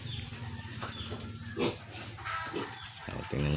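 Low snorting grunts from a sow, close by, repeated in short bursts with some farmyard noise around them.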